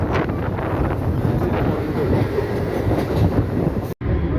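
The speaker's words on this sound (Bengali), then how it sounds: "বাহিরখণ্ড থেকে ট্রেন ছেড়ে দিয়েছে।" A train on the Tarakeswar–Sheoraphuli line rumbles steadily after leaving Baharkhanda, with rhythmic rattling and wind buffeting the microphone, ending in an abrupt brief dropout near the end.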